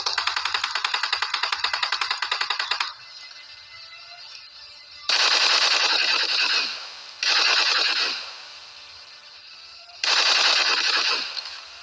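Rapid automatic gunfire in a battle royale video game fight: a long sustained burst of loud, closely spaced shots, then a pause and three more short bursts, with no talking.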